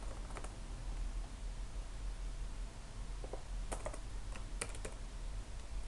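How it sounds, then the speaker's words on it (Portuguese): Typing on a computer keyboard: scattered key clicks and short bursts of taps, quiet and close, over a low steady room hum with no voices. "tentar começar a digitar banco aqui em algum lugar"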